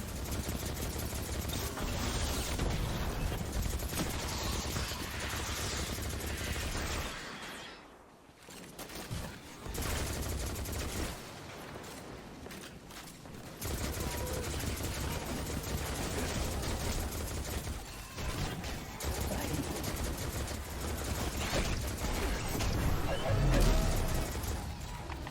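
Pulse rifle fire in the video game Destiny: dense, continuous bursts of gunfire and crashing effects over a loud game soundtrack, briefly dropping away near the middle before resuming.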